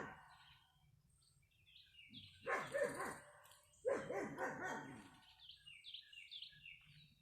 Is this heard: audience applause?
no